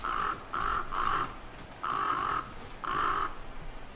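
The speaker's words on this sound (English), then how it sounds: "Go away, crows." Crows caw in the survival game The Flame in the Flood, five harsh calls in an uneven rhythm, fairly close and clear over a quiet outdoor background with no talking.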